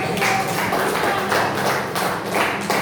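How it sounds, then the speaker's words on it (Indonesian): Classroom applause from a group of students, a dense continuous patter of many hands clapping at steady loudness throughout, close and filling the room. "Berikan aplaus"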